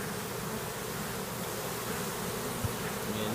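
Angry honeybees swarm around an opened, comb-filled beehive on a farm, a dense, steady, close buzzing hum that holds at even loudness throughout, with no voices over it.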